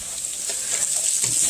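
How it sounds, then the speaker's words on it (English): O'Brien potatoes fry in a pan while being stirred, a steady bright sizzle with soft scraping strokes close by, no voices. "let's stir these potatoes while we're waiting"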